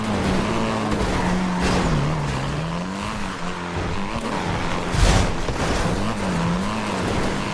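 Car engine from a vehicle-combat video game, revving continuously with shifting pitch, plus a brief skid or screech near the middle, loud and steady throughout.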